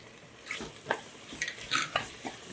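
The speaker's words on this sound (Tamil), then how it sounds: "எல்லாத்தையும் ஒன்றா போட்டு ஒரு கிளறிட்டு" A spoon stirs chilli powder, coriander powder, garam masala, curd and ground masala together in a pan for meal maker tomato rice, giving soft scraping strokes and light clinks of utensil on metal at close range.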